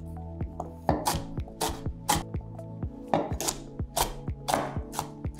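A knife coarsely chops small shallots on a cutting board, quick uneven strokes in a steady flurry, close and crisp with no talking.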